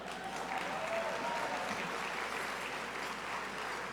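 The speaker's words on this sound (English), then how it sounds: "oh, you can clap on that one." A crowd at a convention luncheon applauds in a soft, steady patter of many hands. The sound is distant and even throughout, with a faint voice barely audible underneath.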